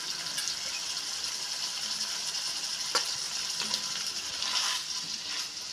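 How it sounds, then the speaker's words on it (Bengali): Soya chunks fry with spice masala in a pan over lowered heat, giving a steady, close sizzling hiss with a few brief crackles and no talking. "মশলা সয়াবিন একসাথে খুব ভালোভাবে কষিয়ে নেব আর এই মুহূর্তে আঁচটা আমি কমিয়ে রেখেছি"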